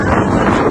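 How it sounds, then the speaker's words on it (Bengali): An outdoor breeze gusts across the microphone in a brief, loud burst of rushing, buffeting wind noise. "সুন্দর লাগছে হাওয়াটা না?"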